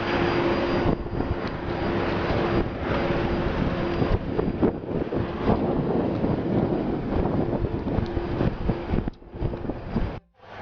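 Steady, loud airplane engine roar with a constant tonal whine at Casablanca airport just after landing, mixed with wind buffeting on the microphone, easing briefly near the end.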